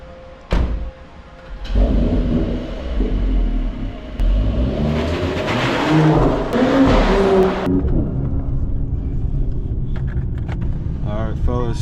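A 420+ horsepower Mercedes-AMG driving through downtown Toronto, its engine rumbling steadily and then revving up hard through a sustained acceleration, loud and close, with brief talking over it.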